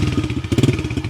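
Small kids' dirt bike, a Yamaha TT-R 110 or Suzuki DRZ 50, with an air-cooled engine turning over on the electric starter, giving a rapid rhythmic chugging and clatter up close that picks up briefly.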